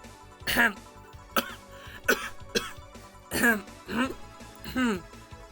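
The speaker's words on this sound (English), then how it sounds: "And you're clearing your throat?" In the video game VA-11 Hall-A, someone clears their throat and coughs several times in a row, rough bursts separated by short pauses, close and loud.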